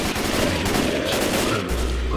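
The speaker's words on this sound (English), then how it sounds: "Just a glorified machine gun." Assault rifle fire in the zombie shooter game Left 4 Dead 2, a loud, dense stream of rapid gunshots that runs without pause.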